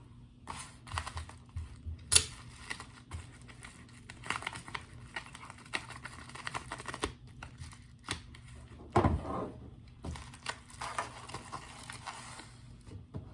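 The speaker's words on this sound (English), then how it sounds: "So let's go ahead and just cut into them." Packaging for Tacoma lifestyle patches is cut open and handled up close, with scattered crinkles, snips and rustles over about thirteen seconds and one louder tearing burst near the end, with no talk.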